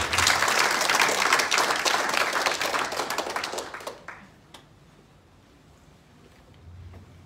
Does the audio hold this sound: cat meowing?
no